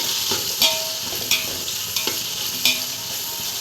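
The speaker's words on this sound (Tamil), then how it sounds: "நாலு தக்காளி நாலு பச்சை மிளகாயும் நாலு தக்காளி நல்லா வதங்கட்டும்" Tomatoes and green chillies sautéing in a pan for chicken biryani give a steady, close sizzle throughout, broken by a spatula scraping and stirring at regular intervals of about two-thirds of a second.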